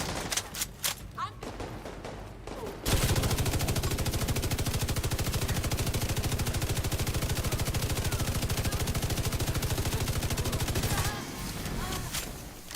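A long, loud, unbroken burst of rapid automatic fire comes from an Iron Lung light machine gun in the video game The Division 2, following a few scattered shots and brief voice chatter, then cuts off abruptly.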